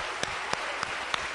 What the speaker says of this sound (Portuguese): dê mais uma grande salva de palmas para o Senhor Jesus.